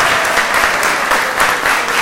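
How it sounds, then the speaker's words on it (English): Community meeting audience applauding NYPD Police Commissioner O'Neill, with dense, steady clapping from a sizable crowd filling a short stretch, loud and close. "Please give him a round of applause."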